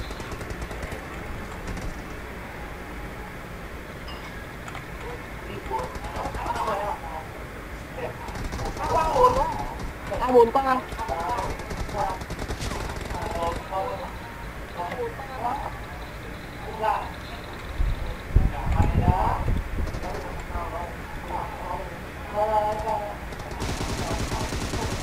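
Bursts of gunfire from the battle royale video game PUBG, repeated shots in uneven volleys at moderate loudness, with someone talking over them throughout.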